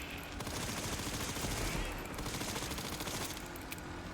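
Sustained rapid gunfire from a shooter video game, dense and continuous at steady loudness for the whole stretch, with no talking over it.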